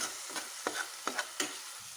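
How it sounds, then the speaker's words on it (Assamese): Bay leaves frying in a little hot oil with a steady soft sizzle, broken by a few brief scraping stirs of a spoon near the pan; no talking. "তেজপাতখিলা লগতে ভাজি দিওঁ তেলকণ থাকোঁতেই।"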